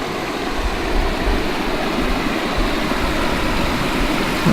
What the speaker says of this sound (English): Here's kind of a pretty sight with the waterfalls. Well, you know, creek waterfalls.